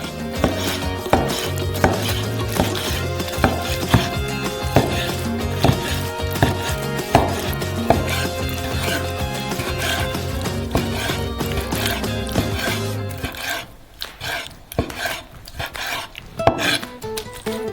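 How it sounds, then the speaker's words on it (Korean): Salmon is being cut into cubes with a knife, giving regular, evenly spaced chopping taps on a board beneath loud background music, until the music drops out near the end and only scattered knocks remain. "그리고 나서 연어를 큐빅으로 썰어주세요"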